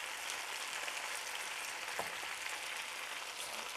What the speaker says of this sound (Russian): Вот сейчас эти картошечки будут обжариваться.